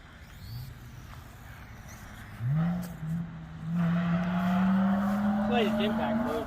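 The electric motor of a VOLANTEXRC F4U Corsair park flyer RC airplane drones as a sustained, buzzing tone that strains and shifts in pitch, heard outdoors at moderate distance while people talk.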